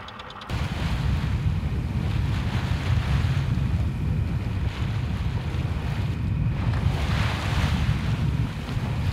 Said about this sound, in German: Wow, ganz schön Welle hier draußen.